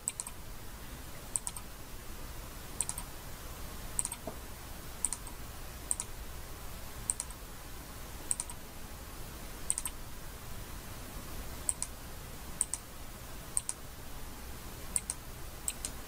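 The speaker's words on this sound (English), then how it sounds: "just right mouse click" Sharp little clicks tick out every second or so, quiet and close, like a computer mouse being clicked repeatedly in a silent room.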